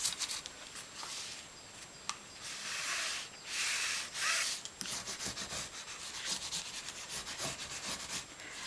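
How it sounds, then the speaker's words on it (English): Backing material rubbed firmly onto a freshly glued book spine during a bookbinding repair, a steady close dry rubbing with repeated swishing strokes and brief surges, no talk. "give it a good rub down"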